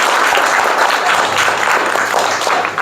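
Loud, sustained clapping from a classroom of students, filling the whole stretch at steady volume after a science magic demonstration with a silver conductor lighting a bulb.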